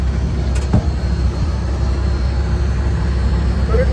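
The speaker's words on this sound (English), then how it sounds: "The air blower that it has, I'll turn that on. It's noisy, but it does put out the air." Air blower on a John Deere 45 combine running, a loud steady broadband roar with low rumble filling the whole stretch, close and continuous.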